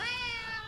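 A ginger tomcat gives one short, fairly quiet meow that holds a steady pitch and then fades, with no other sounds.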